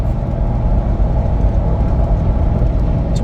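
Inside a diesel Toyota Land Cruiser HDJ81 cruising at about 70 mph with a repaired fuel pump, a steady loud low engine drone and road rumble fills the cabin without a break, with no talking.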